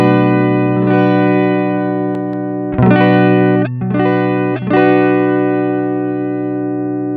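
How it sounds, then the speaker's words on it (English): Clean electric guitar tone through a one-knob low-pass/high-pass filter pedal used as a cabinet simulator: sustained, loud chords with a few sharp re-strums around the middle, ringing alone. "Let us hear the clean tone of my guitar."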